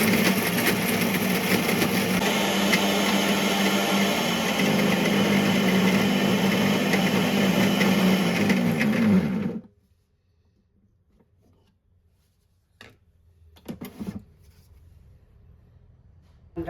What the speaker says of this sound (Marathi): आता हे सगळं मिक्सरवर बारीक करून घेते.